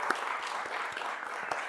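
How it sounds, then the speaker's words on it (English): A city council chamber erupts in brief, steady applause from the audience at a council meeting, a dense even patter of many hands with a couple of sharper claps, heard alone without talk. "I think that deserves a round of applause as well."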